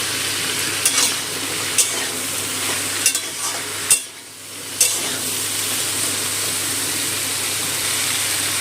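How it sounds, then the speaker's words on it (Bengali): Vegetables frying in a pan over a high gas flame, a loud continuous sizzle with a few sharp clanks of a spatula stirring, briefly dipping midway before resuming. "গ্যাসটা বাড়িয়ে দিয়েছি, বাড়িয়ে সবজিটা একটু ভেজে নেব।"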